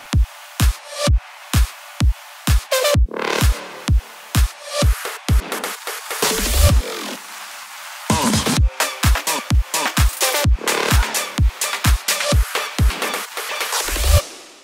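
Drum parts of a future house track play together: a steady four-on-the-floor kick with crisp hats and claps, loud and driving, with a brief rising fill partway through.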